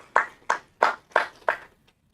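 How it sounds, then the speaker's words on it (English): Five crisp, evenly spaced hand claps ring out one after another at an awards ceremony, sounding like a single pair of hands rather than a full crowd. "Can we please give a round of applause for Sanjana and Josh?"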